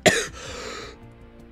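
One sharp, close cough bursts out, trails off into a quieter breathy rasp, and a second cough begins abruptly at the very end.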